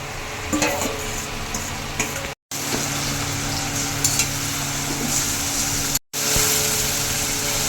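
Marinated mutton sizzles in a pan of onions fried until red, with a steady hissing crackle and occasional stirring clinks close by, broken by two short silent gaps.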